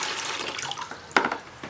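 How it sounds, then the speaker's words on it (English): Water running and splashing as an aquarium tank is partly drained during a routine weekly water change, a steady close hiss of flowing water with a brief louder gush near the end. "So we drain some of the water from the tank"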